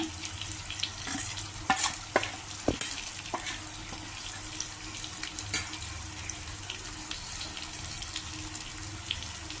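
Stuffed ridge gourds frying in a pan with a steady soft sizzle, punctuated by a few louder scrapes and clinks near the start, moderately quiet and without speech.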